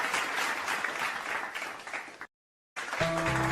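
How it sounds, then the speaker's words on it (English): Audience applause and cheering for team racers at a race tournament, a steady wash of clapping that cuts out abruptly, then resumes alongside a faint electronic tone. "please give applause and cheers to our final fourth round team racers"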